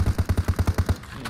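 Automatic gunfire in PUBG Mobile, a rapid even string of about nine heavy shots close by, ending abruptly with a short fading tail.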